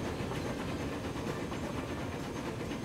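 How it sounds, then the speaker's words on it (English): A train rolls past in the railway simulation game Transport Fever, a steady rumbling drone with a faint rhythmic rail clatter at moderate, even loudness. "So the train coming in there."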